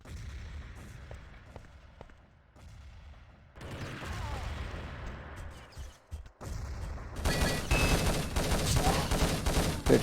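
Bursts of gunfire from a competitive Urban Terror match, with scattered shots building into dense, rapid automatic fire and loud overlapping volleys toward the end.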